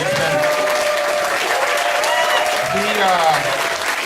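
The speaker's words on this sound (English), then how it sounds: "let's give Justin a big round of applause" Dense applause and crowd noise at an outdoor rally for a $15 minimum wage at the Oregon State Capitol, steady and loud, with voices and cheers rising over the clapping.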